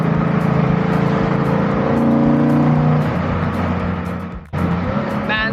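Naturally aspirated engine of a classic car revving hard while driving, a loud, close, continuous drone that holds and climbs, then drops sharply as revs cut before surging back up near the end.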